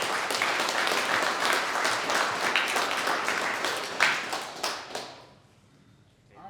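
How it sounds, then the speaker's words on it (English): Audience applause at a company meeting, dense steady clapping for about five seconds, then fading out into near silence with a few scattered claps at the end. "let's give a round of applause for can-do attitude"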